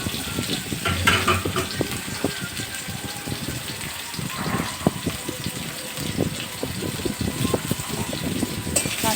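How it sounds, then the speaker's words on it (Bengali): Onions and potatoes frying in a pan while being stirred, a steady sizzle broken by scraping and clattering of the spoon, close and continuous throughout. "পেঁয়াজ ছেড়ে দিলাম, পেঁয়াজ দিয়ে একটু নাড়াচাড়া করে ওর মধ্যে এবার আলুটা দিয়ে দেবো।"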